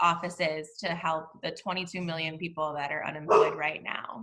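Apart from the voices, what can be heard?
dogs barking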